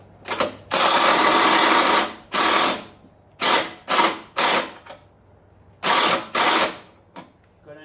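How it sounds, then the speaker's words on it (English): Hand ratchet working a shock bolt loose or tight on a 2013 John Deere Gator HPX 4X4, heard as close, loud bursts of rapid clicking in separate strokes of varied length with short pauses between, no talk. "Now, I'm gonna need a ratchet."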